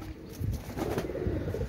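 Pakistani Teddy pigeons from an imported bloodline, a double-tagged pair, coo in low, steady murmurs that roll on continuously at moderate loudness, with no voices over them.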